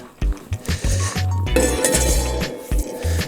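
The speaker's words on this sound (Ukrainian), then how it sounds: "Так, сковородочка трохи застигла. Тепер ставимо її і пробуємо жарити." A restored old frying pan is set down on an outdoor fire with several sharp metallic clanks and clinks, close and loud, separated by short pauses.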